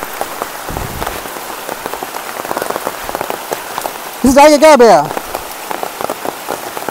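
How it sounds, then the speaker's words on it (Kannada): Steady rain pours through the Tulartal forest in Northeast India, a dense, close hiss of drops hitting foliage throughout, with someone briefly speaking partway through. "ಮಳೆ ಸ್ಟಾರ್ಟ್ ಆಯ್ತು"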